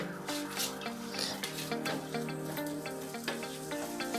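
Crushed ginger, garlic and green chilli paste sautéing in a pan for chicken pulao, a soft continuous sizzle with faint scraping, quiet and steady, though tonal ringing runs through it.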